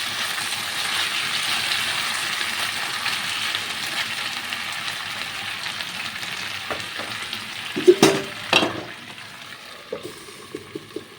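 Chopped onions sizzle steadily in a pan, then a spoon scrapes and stirs with a few loud clanks as the frying quiets down.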